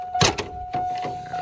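Chevy dashboard trim being pried loose with a small pry tool. There are a couple of sharp close plastic snaps and clicks with a quieter one after them, over a faint steady hum.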